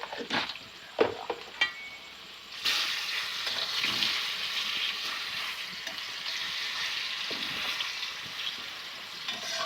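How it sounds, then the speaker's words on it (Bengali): Potatoes frying in oil in a pan, seasoned with turmeric and salt: a steady, loud broadband sizzle swells after a few seconds of quieter crackle and a couple of soft clinks, then holds alone. "এইভাবে আলুগুলোকে ভেজে নিচ্ছি"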